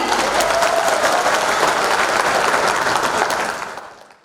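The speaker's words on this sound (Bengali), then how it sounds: "রফিকুল আনোয়ার স্যারের জন্য জোরে একটি করতালি" Loud, dense applause from a gala-night audience at a corporate partner meet, sustained for about three seconds before tapering off, with no talk over it.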